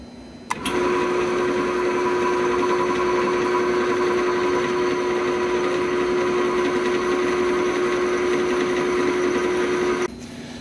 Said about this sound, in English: We're going to drill it extra slow, not a lot of force.